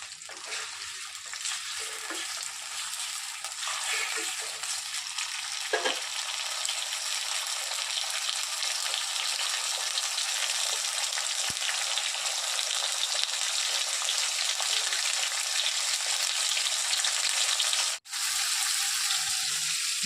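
Ingredients for a spring onion egg curry fry steadily in a pan, giving a loud, continuous crackling sizzle that holds almost unbroken for the whole stretch, with one brief dip near the end.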